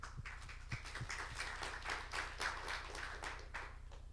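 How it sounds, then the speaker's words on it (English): Scattered clapping from an audience at a startup pitch competition final in Taiwan, faint and distant, with a few distinct individual claps early on before a thin, uneven patter of applause. "So big round of applause for our co-hosts here."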